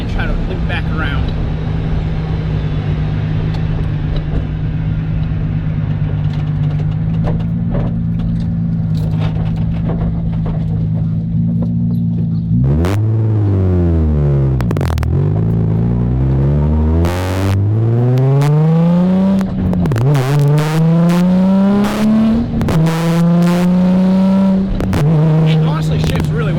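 Nissan 350Z drift car engine idling steadily, then revving hard through repeated rising and falling sweeps as it drives and shifts, loud and close from inside the car, with people talking over it.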